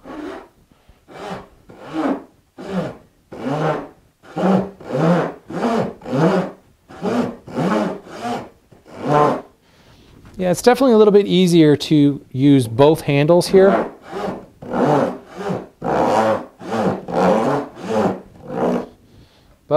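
A Japanese-style stair saw rasps steadily through wood held between bench dogs in quick back-and-forth strokes, close by, with someone talking partway through.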